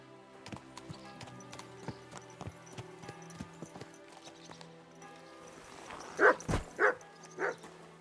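A dog in the video game Kingdom Come: Deliverance 2 barks a few times, loud and near, after a stretch of rhythmic horse hoof clip-clops and ambient game music.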